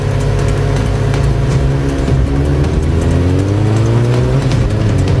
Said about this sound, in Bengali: লালু, তুই এত জোরে বাইক চালাচ্ছিস কেন?